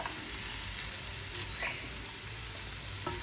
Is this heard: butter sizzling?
yes